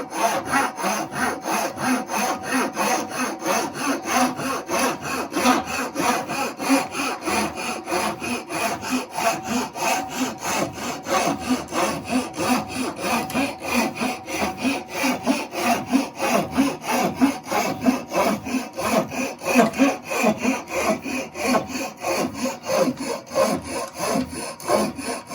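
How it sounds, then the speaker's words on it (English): A hand tool cuts a spiral into wood on a lathe while the chuck is turned by hand, not under power. A steady back-and-forth rasping saw-like scrape repeats rhythmically and closely throughout, with no talking. "It's all done without the lathe running. So as you push forward, you bring the chuck towards you,"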